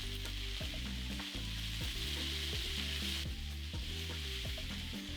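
Peppers, tomatoes and tomato paste frying in a pan for a creamy Tuscan chicken dish, a loud continuous sizzle with spoon scraping and stirring clatter, close up with no talking.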